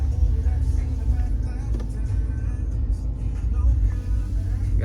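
The engine of a 2021 Ram TRX pickup truck runs after a cold start with a deep, steady idle rumble that holds close and loud throughout.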